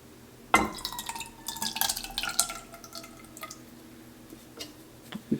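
Canned food sloshes and drips from an opened can into a pan, with clinks and soft splashing bursts, close by, no talking.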